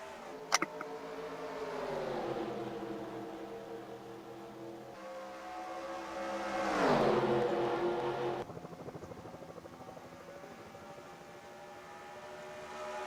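Engines of Mustangs, Vipers and Jaguars in a Daytona race in a video game rise and fall in pitch as the field gets underway, with one loud rising whine passing by midway, fairly faint overall.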